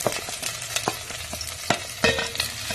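Sliced onions and curry leaves frying in hot oil with popped mustard seeds, a close, continuous sizzle broken by sharp crackles and a few spatula scrapes against the pan, no voices.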